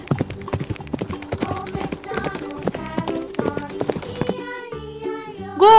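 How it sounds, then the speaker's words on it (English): Horse hooves clip-clopping in a quick, even rhythm of crisp taps under tonal background music, ending with a short bright jingle, near and unaccompanied by talk. "This is horse."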